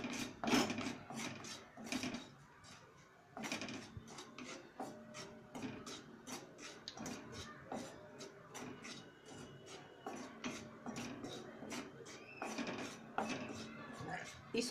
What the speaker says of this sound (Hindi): कम गैस पर कढ़ाई रख के पहले मैं हल्दी सेकूंगी